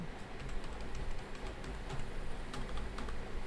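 Rapid typing on a computer keyboard while entering a shop address into a GST billing form; a continuous, busy patter of key clicks over a dull background hum.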